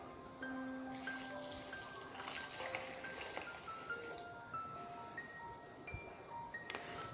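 Water poured into a mixture of detergent and sugar while making homemade lemon soap without caustic soda, a soft steady trickle and splash under faint background tones.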